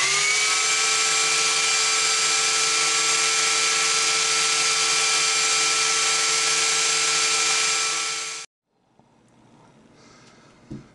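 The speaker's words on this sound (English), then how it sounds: "But I'm doing it with my belt sander." A belt sander runs steadily on wooden TV tray legs with a loud, constant whine, then cuts off abruptly and leaves faint handling noises.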